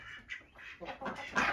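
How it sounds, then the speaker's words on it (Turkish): Ducks quacking in a backyard coop with wild ducks nearby, a run of short nasal calls that grows louder and busier toward the end, close by and with no talk over them. "Ördeklerimiz burada."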